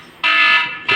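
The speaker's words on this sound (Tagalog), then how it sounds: "Tinatanggal nag-a-alarm ba?" A Hikvision intercom doorbell sounds its tamper alarm after being removed, giving a loud, steady electronic tone that breaks off briefly and then starts again, with no talk over it.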